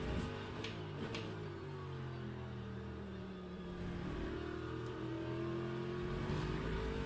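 Race car engine in Le Mans Ultimate, driving on a wet track, a steady droning motor with rising and falling revs and the hiss of spray, continuous and close, with no talk.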